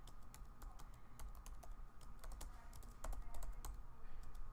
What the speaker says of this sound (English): you type in the subject, which is introduction. I'll scroll down, and you type in your intro.